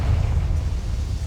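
A Confringo fire spell bursts in Hogwarts Legacy, a loud, sustained explosive roar with a deep rumbling low end that holds steady for over a second.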